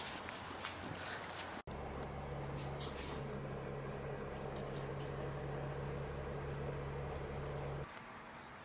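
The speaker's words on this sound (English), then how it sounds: "Oh, is that my bus? That's my fucking bus, and I can probably catch it." A city bus pulls up with a sudden loud air brake hiss, then a steady low engine idle and rumble for several seconds before it cuts off. Street noise continues around it.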